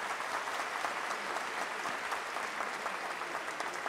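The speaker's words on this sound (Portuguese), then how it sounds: "quero pedir uma salva de palmas à Ana Paula" Warm applause from the congregation at a solemn church session in honor of Ana Paula, steady, dense clapping at moderate volume throughout.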